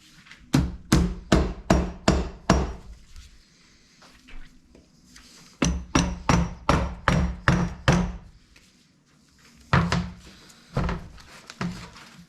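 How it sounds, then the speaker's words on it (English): A mallet taps repeatedly on the engine case of a 1988 Yamaha YZ250 motorcycle during teardown, firm hollow knocks coming in quick rhythmic runs of about six or seven, with pauses between the runs. "start just tapping this with a mallet first, and then if not, maybe with a hammer"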